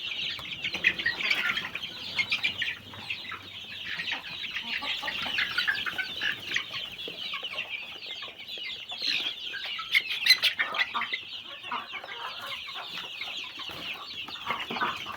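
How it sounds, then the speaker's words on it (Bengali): Chickens on a poultry farm in Saudi Arabia cluck and squawk nearby in irregular bursts, with occasional wing flapping, lasting throughout with no talk. "এই হলো অবস্থা, এই হলো আমার মুরগির অবস্থা।"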